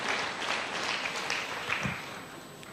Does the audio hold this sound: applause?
yes